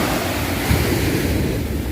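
Strong, high surf rolls steadily onto Bang Saray Beach in Sattahip, Chonburi, at sunset, a continuous broadband wash of breaking waves with wind rumble and no voices.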